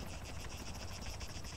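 Helicopter rotor thumping steadily in Arma 3 during a King of the Hill multiplayer match, a continuous rhythmic chop at moderate level with no speech over it.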